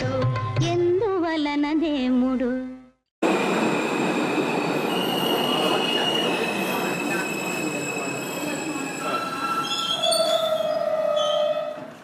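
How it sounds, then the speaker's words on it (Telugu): A passenger train arrives at Kacheguda railway station in Hyderabad, loud and close, with rolling carriage rumble, screeching wheel squeal and a brief gap before the steady roar continues; a short musical phrase plays at the start. "train Kachiguda railway station చేరుకుంటోంది"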